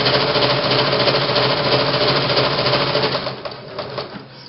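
A sewing machine stitches at its longest stitch length, a loud, continuous mechanical whir with a fast rhythmic chatter, easing slightly toward the end as it slows.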